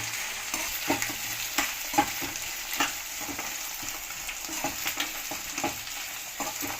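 Bitter gourd pieces fry in oil for a gourd pickle, giving a continuous soft sizzle dotted with small crackles and stirring scrapes, close and fairly quiet with no voices.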